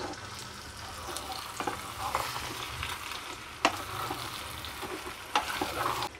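Chopped green beans and drumstick pieces frying in oil in a pan, a steady low sizzle with occasional stirring clinks and scrapes, close and moderately loud, no voices.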